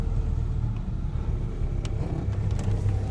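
An old pickup truck strains uphill under heavy throttle, its engine a steady low rumble that fills the cab, close and continuous, with faint rattles on top.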